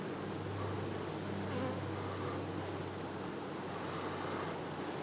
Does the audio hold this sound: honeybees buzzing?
yes